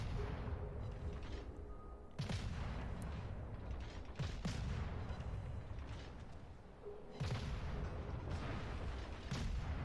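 Destroyer guns trade fire in a naval warship video game, the Shimakaze against the Daring, with two heavy booming salvos punching through a constant low engine and sea rumble, no talk heard.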